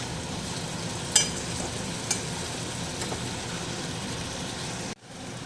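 Potatoes stirred and fried with spices in a pan, a steady close sizzle with a couple of sharp spoon clinks and a brief drop near the end.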